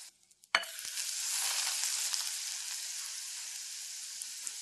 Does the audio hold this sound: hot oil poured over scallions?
yes